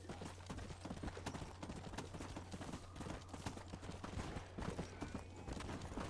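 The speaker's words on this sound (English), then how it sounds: "Stupid horse." Video game horse hooves clopping rapidly in a steady galloping rhythm, fairly faint and unbroken, with a possible brief whinny and no clear speech over it.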